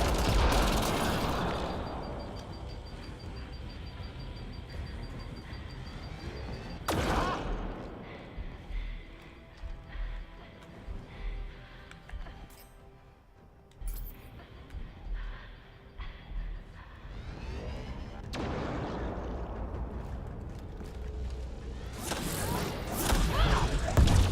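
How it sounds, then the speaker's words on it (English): Turret gunfire during combat in Mass Effect: Andromeda at the Eos vault: dense, loud bursts of rapid automatic fire with thuds and crashes open and close the stretch, around a quieter middle of mechanical hums and scattered impacts. "There's a damn turret back there."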